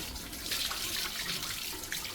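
Tap water runs in a steady, close rush as an aquarium filter is rinsed under it, with no voices.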